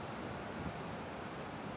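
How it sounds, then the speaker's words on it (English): A steady, even rush of falling water from a waterfall fills the background outdoors near Bangalore, a constant soft hiss without breaks or voices. "I think it's a waterfall."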